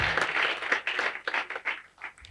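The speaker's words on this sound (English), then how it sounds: "A round of applause for Nirsal Microfinance Bank" An audience at a corporate event honouring a microfinance bank claps in a steady burst of applause that thins out toward the end.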